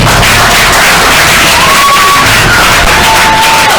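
Loud crowd cheering and whooping for the winner of a televised show final, with dense applause, sharp shouts and a whistle cutting through, saturated and close.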